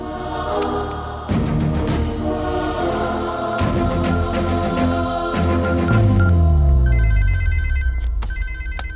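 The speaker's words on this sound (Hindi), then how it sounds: "ये इस वक्त क्यों फोन कर रहा है?" A telephone rings loudly and continuously for an incoming call, its bright electronic ringtone repeating in bursts with no speech over it.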